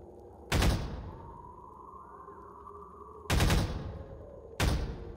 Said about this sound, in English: Overwatch pulse rifle